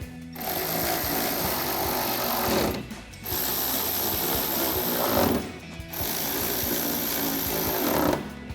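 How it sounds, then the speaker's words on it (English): A ratchet with an 8mm socket tightens headlight bolts on a 2019-2023 RAM 1500. It sounds as three sustained bursts of rapid, buzzing ratchet clicks, close up, with short pauses between. "we can grab our 8mm socket to tighten these all down"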